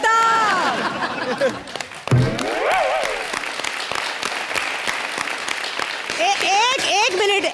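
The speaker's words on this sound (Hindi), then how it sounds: "तुमने उस टेप रिकॉर्डर पर नकली तालियां बजवाई।" Canned applause rolls from a tape recorder on a comedy show stage, a steady wash of clapping with a brief dip near the two-second mark, mixed with voices talking over it throughout.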